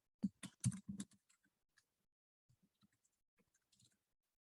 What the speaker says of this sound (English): click it on the document and then start typing